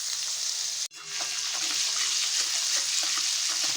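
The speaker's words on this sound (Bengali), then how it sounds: "তেল গরম হয়ে গেছে, এবার দিয়ে দেবো আদা কুচি" Chopped ginger dropped into hot oil in a home kitchen, a brief gap then a loud steady sizzle of frying that continues throughout, with faint stirring clicks and no talk.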